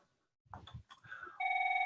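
A telephone rings on a call-in phone line during a town board work session, a steady electronic tone starting after some faint, muffled sounds.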